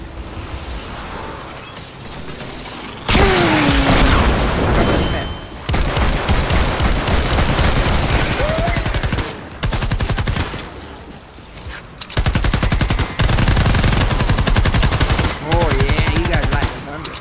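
Assault rifle gunfire in Fortnite Save the World, loud sustained automatic bursts repeating in long stretches separated by brief pauses, close and dominant over the scene.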